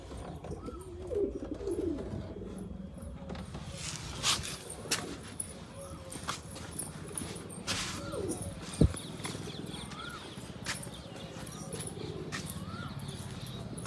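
Pigeons with their chicks make faint cooing and fluttering sounds amid a noisy, cluttered background of scattered knocks and rustles, with one sharp click partway through.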